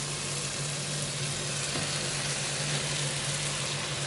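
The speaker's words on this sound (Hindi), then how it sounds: "इसमें मैं अब डाल दूंगी बैंगन जो फ्राई किए थे" A steady hissing sizzle of hot masala frying in a pan as fried eggplant pieces go in. The crackle is close and continuous throughout, with no talking.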